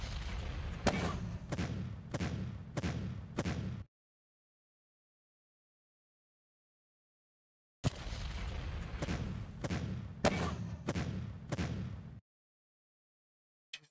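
Artillery fire in the strategy game Decisive Campaigns: Ardennes Offensive, two bursts of several heavy, booming impacts in quick succession, each burst about four seconds long and separated by a stretch of silence, with no talking.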